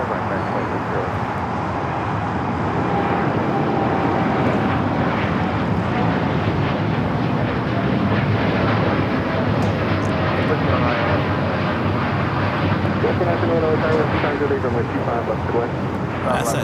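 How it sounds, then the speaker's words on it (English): A Boeing 787-10 Dreamliner jet departs LAX, its engines producing a loud, steady broadband roar that swells gently and holds throughout, with faint background noise and no nearby voices. "787-10 Dreamliner heading to Newark. Good departure."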